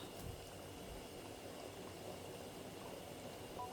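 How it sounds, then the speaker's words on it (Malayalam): A pot of sardine curry in ground coconut with mango and curry leaves simmers steadily, a faint, continuous low bubbling hiss throughout. "കറി തിളച്ചിട്ടുണ്ട്."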